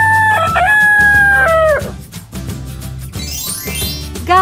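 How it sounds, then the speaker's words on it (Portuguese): A toy rooster sound effect crows once, loud and close, with a long stretched cock-a-doodle-doo over a steady synth music backing; a short bright note follows near the end. "Galo."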